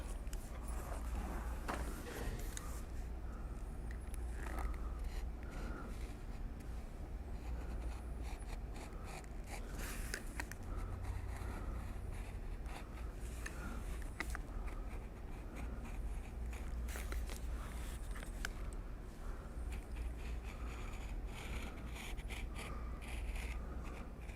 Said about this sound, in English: we can use a good sharp knife and cut out all of our pieces.